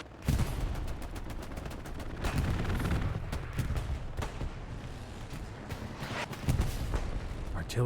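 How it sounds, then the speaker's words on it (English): Artillery barrage in Hell Let Loose on the Hurtgen Forest map, a continuous roar of distant booms and crackling gunfire with heavier thumps at intervals, under faint voices. "Artillery, though, is zoned in on the OP."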